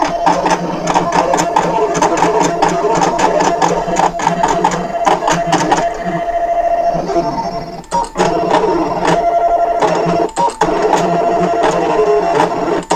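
A Brother ScanNCut cutting machine runs close and loud, with a rapid mechanical chatter, repeated clicking bursts and a steady motor whir. It stops briefly a few times along the way.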